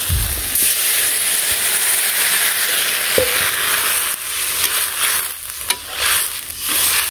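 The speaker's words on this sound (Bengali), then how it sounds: "তরকারিটা ভালো করে কষিয়ে নিলাম, ঝোল দিয়ে দিই।" Broth poured into sautéed vegetable curry in a pan on a village kitchen stove, giving a loud continuous sizzle and bubbling hiss with stirring scrapes, heard alone throughout.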